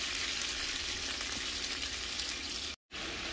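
Lamb cooking in beef broth over a lowered flame gives a steady, close bubbling sizzle that runs without a break for about three seconds, then cuts out in a sudden brief dropout near the end.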